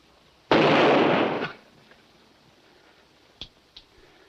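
A single loud blast rings out in a western film, trailing off over about a second, followed later by two faint sharp cracks in a quiet scene.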